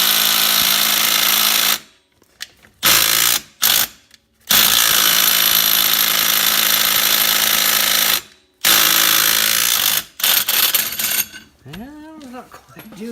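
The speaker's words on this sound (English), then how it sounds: "Okay, we'll see if this little impact wrench will do it." A small impact wrench hammers at a bolt on a 2018 Polaris 900 XP clutch in loud, close bursts of rapid rattling, stopping and restarting several times with brief pauses and a few metallic clinks near the end.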